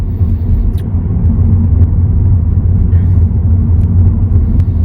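A company car, a small hatchback, rumbles along the road from inside the cabin, a loud, steady low drone of engine and road noise with occasional faint clicks, no talking.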